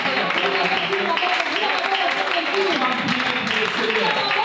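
Church congregation clapping in acclamation during worship, steady loud applause with many overlapping voices calling out throughout.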